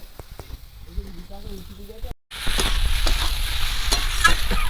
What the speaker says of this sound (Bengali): এবার একদম ভালো করে কষিয়ে নেব